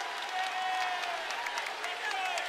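A raucous crowd roars and claps steadily throughout inside a college basketball arena during a Houston versus Tulane game, a dense, continuous wash of cheering heard from a distance.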